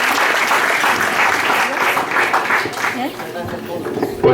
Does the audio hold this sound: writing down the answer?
no